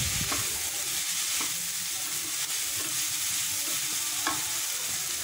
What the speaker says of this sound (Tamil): எல்லாமே ஆட் பண்ணிவிட்டு நல்லா வதக்கணும்.